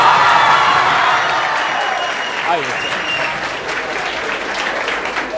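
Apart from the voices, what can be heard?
applause from students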